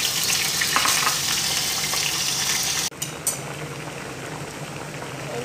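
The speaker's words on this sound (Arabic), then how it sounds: "الدهن أنا أبي أحط قلي باذنجان" Eggplant frying in hot oil, a loud dense bubbling sizzle that drops abruptly partway through, then carries on a little lower and steadier with a faint clink, no voices.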